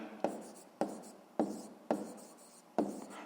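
A pen scratches across paper while a maths answer is written out, five distinct strokes spaced evenly, each a sharp attack trailing into a rasp, close-miked and without any speech.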